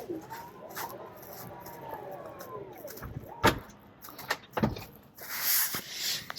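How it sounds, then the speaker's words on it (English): A Tesla Model X falcon wing door closes with a soft motor whir, then a couple of sharp thuds and latch clicks close by, followed by a brief hiss. "Falcon door is going to close."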